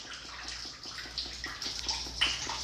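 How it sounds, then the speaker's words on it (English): Rainwater pours and splashes through a leaking house ceiling, a soft, steady trickling and gurgling with faint drips, heard alone at low volume. "You hear how much water's flowing in that ceiling?"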